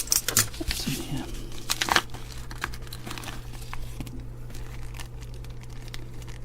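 A small paper envelope of electronic components is handled and opened close up, giving crisp crinkling and tearing rustles that are loudest early and then fade into lighter paper movements.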